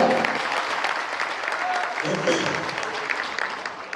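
Applause at a business training event for the administration, a loud, steady burst of many hands clapping together with a few voices underneath.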